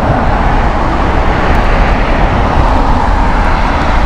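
An Air Portugal airliner lands at Heathrow Airport on a cloudy, low-visibility day, heard as a steady, loud broadband jet roar that holds at an even level throughout with no voices.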